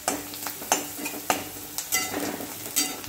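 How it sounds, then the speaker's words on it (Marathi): Turmeric, chili powder and homemade masala are sautéed in oil in a pan. A continuous sizzle is broken by repeated sharp clinks and scrapes of a spoon against the pan, at a moderate level. "चांगलं तेल सुटेपर्यंत त्याला परतून घ्यायचं आहे"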